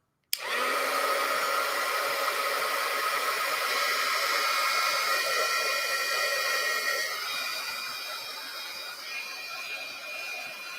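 A hair dryer switches on abruptly and runs as a loud, steady whoosh, easing slightly in strength toward the end, with no talking over it.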